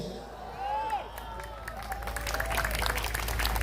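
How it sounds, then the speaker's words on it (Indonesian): A crowd at an Islamic haul gathering begins clapping, a diffuse patter swelling under a speaker's amplified voice and growing louder toward the end. "Jangan tepuk tangan"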